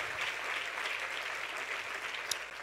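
Steady applause from a crowd, a continuous wash of clapping at moderate distance that holds evenly throughout without talk.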